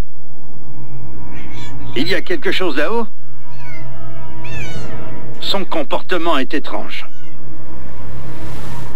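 A house cat meows in several drawn-out, wavering calls indoors, loud and close, with someone speaking between and over the cries.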